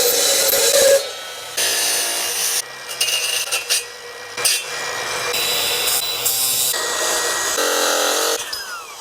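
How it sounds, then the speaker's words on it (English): A power saw cuts through metal stock in a workshop, a loud, close, harsh rasping whine that starts and stops several times in bursts of a second or two. "God, I love this saw."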